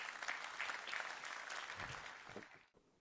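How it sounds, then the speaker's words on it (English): A short burst of audience clapping, fairly full at first, then thinning and stopping abruptly. "Let's give them a big round of applause"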